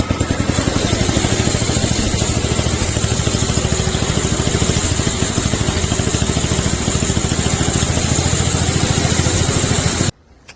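A go-kart's 10 horsepower snowblower engine runs steadily and loudly close by, with an even mechanical chug held for about ten seconds before cutting off abruptly near the end.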